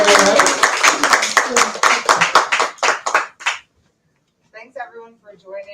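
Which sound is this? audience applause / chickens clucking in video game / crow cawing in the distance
audience applause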